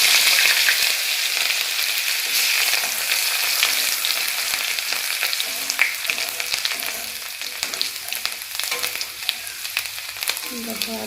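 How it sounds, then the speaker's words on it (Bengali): Ginger frying in oil in a pan, a dense continuous sizzle with crackling pops and the scrape of stirring, close and loud throughout, with no voices. "দেখো আদাটাও হালকা করে ভাজা হয়ে গেছে, লাল লাল হয়ে গেছে।"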